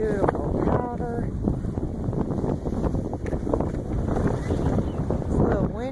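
Steady wind on a ski slope at Winter Park, Colorado buffets the microphone in a constant roaring rush, loud and close throughout, with a few faint tonal whistles.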